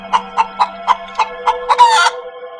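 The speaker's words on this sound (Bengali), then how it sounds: "আর এদিকে হাঁস মুরগির আওয়াজে রতন মিয়ার ঘুমটা ভেঙে গেল" Cartoon farmyard of ducks and chickens: a run of about eight sharp, evenly spaced clucks, then a longer squawking burst near the end, loud and close with no talk over it.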